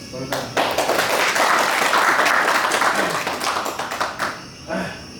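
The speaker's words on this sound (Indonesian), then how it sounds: "mari kita beri aplaus." An audience at a youth community discussion on digital literacy applauds, a dense burst of clapping for several seconds that tapers off, with voices mixed in.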